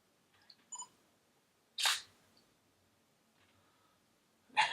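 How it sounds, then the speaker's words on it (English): The autofocus of a Yongnuo YN EF 50mm f/1.8 lens mounted on a Nikon camera gives a few short, clunky mechanical clicks and whirs, close and quiet, separated by near silence, with one louder burst at the end. "the autofocusing is a little bit clunky"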